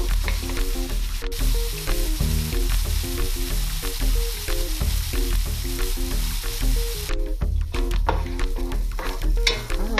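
Onions and garlic sizzle in a pan for a baked ziti, a constant close frying hiss under steady background music.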